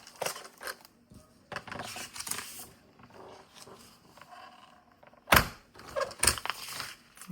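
Scissors cut a 10 by 10 piece of paper for a scrapbook page, making a string of soft, irregular snips and crisp cuts, with a sharper clack partway through.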